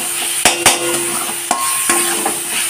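Spice paste with salt, sugar, turmeric, chilli, cumin and chicken masala stirred and fried in a pan for egg kosha, a steady close sizzle broken by a few sharp spoon knocks against the pan.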